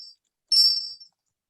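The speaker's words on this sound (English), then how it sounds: "a chime will sound when you have 15 seconds remaining" A short, high electronic chime from a timer at a city mayoral forum marks 15 seconds remaining, a faint blip followed by one clear bright ding that fades quickly in silence.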